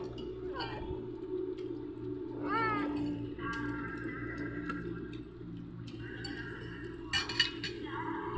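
Several high, rising meows from a kitten nearby, spread over a few seconds with quiet background hum and a brief clink near the end.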